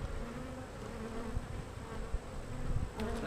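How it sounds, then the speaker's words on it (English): Honey bees buzz steadily around an open hive, a dense, continuous hum close by with a few louder passes of individual bees near the microphone. "Plenty of bees."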